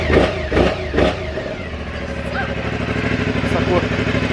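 A car engine catches right after a starter fix on a starter that lacked power, with a few loud bursts at the start and voices over them, then a steady, close idle that keeps running.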